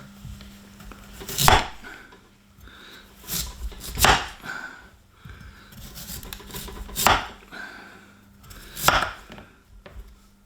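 A knife chops through a peeled swede, probably on a cutting board. About six sharp, loud, separate chops fall at irregular intervals with quiet pauses between them, and no voices are heard.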